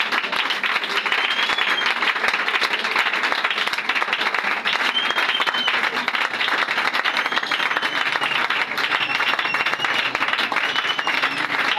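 A church congregation claps steadily and loudly at a prayer night, a dense continuous wash of applause running throughout with no break.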